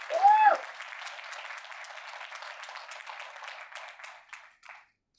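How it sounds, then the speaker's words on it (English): Applause for Nikita Takle, a toddler of about 19 months, from an audience at a talk: a loud burst of clapping at the start that settles into steady, lighter clapping and thins out toward the end. "Once more, can you all clap for Nikita Takle?"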